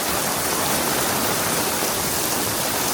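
Steady, dense hiss of heavy rain pouring down at night on Calle Crisologo in Vigan, loud and continuous throughout with no voices.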